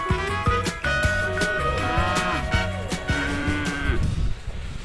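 Beef cattle being herded and moved out of a pen low and moo repeatedly, with several long, loud, close calls overlapping one after another.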